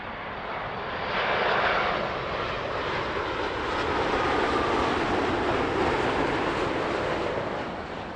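Qantas airliner landing at Heathrow in spring sunshine, a broad steady jet roar that swells and holds close overhead for several seconds, loud and continuous with no talk.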